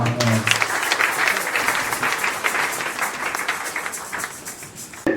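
Church congregation cheering and applauding for Jesus at a Sunday service, a dense wash of clapping and crowd voices that holds steady and loud throughout, with voices mixed in.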